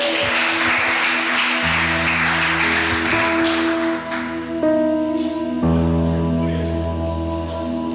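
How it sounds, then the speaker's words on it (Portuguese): Congregation at a Portuguese-language church service clapping in praise of the Lord, a light continuous patter of hands beneath sustained keyboard chords that shift several times. "aplauda o Senhor se assim você crê"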